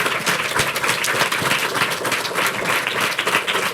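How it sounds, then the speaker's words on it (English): An audience at a panel discussion applauds the panelists, dense continuous clapping from many hands filling the room at a steady level for several seconds. "Can we give our panelists one more round of applause?"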